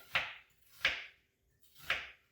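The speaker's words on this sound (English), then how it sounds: "So for the half of the onion, I cut it into 8s, basically" A knife chops through half an onion on a board in three separate crisp strokes, each a sharp close thunk with a short tail, evenly spaced with quiet between and no speech.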